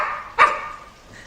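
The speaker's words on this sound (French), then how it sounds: "C'est mon chien." A dog gives a single sharp bark, close and clear, then quiet room tone follows.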